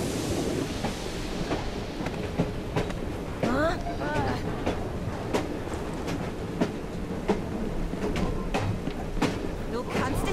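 A train rolls through a Victorian London setting in Assassin's Creed Syndicate with steady clickety-clack rumble and a few squeaks and clanks, continuous and close, while someone talks over it.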